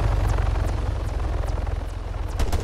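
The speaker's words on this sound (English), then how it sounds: "Helicopter inbound." A helicopter in the military video game ArmA III thuds steadily with a loud, continuous rotor chop and deep engine rumble throughout.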